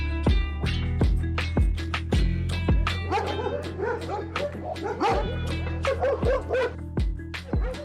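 A military working dog in Marseille barks and yips repeatedly at close range, sharp loud barks in a steady rhythm with some whimpering in between, alone without talk.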